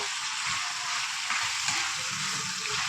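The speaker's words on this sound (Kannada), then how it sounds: "ಲಿವರ್ ಹಾಕಿ ಚೆನ್ನಾಗಿ ಫ್ರೈನ ಮಾಡ್ಕೊಳ್ಳೋಣ" Chicken liver mixed with gizzard fries in a pan for a pepper sukka, giving a steady, close hiss of sizzling oil with soft scraping stirs underneath and no talk.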